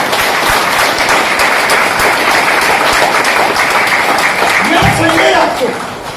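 An audience at a live business-plan seminar claps steadily and densely for several seconds, a loud, even wash of applause that thins out near the end.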